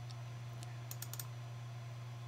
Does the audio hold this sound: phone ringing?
no